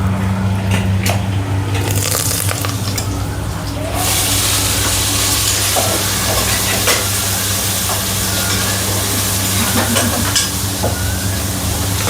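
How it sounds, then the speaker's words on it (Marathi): A spicy phodni tempering of spices sizzles in hot oil. The loud, steady frying hiss is dotted with stirring clatter and a low hum beneath. "निधीची फोडणी पण झणझणीत बसते."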